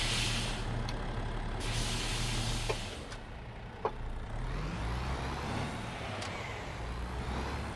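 Air brakes on a truck in the driving game On The Road release over a steady low engine idle, followed by a couple of sharp hissing and clunking bursts, with no voices.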